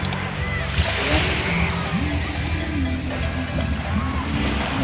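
Ocean waves wash onto a beach in a steady rolling surge, close and fairly loud, with wind noise and a few faint tonal calls layered over the water.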